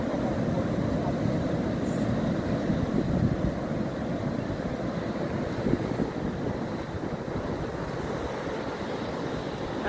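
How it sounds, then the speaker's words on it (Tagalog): Strong ocean waves at Umbrella Rocks, a continuous roar of surf mixed with heavy wind buffeting the microphone, steady and loud with no clear breaks. "Lakas ng alon."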